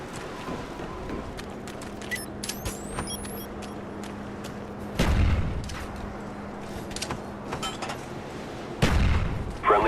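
Gunfire from pre-firing in the video game Black Ops cracks out in a few sharp, scattered shots, with a heavy burst near the middle and another toward the end over a steady low game hum.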